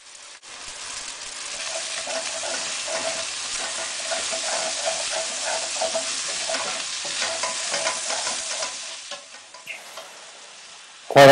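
Fried rice being stir-fried Shanghai street style, a steady crackling sizzle with scraping stirs running continuously, close and fairly loud, fading out near the end before a brief louder knock.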